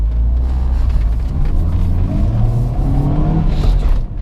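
A JAC J3 Turin car with 97,000 km on it rumbles steadily, revving up slightly as it pulls away, loud and close throughout.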